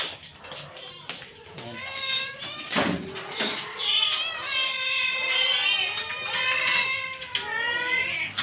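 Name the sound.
pet cats meowing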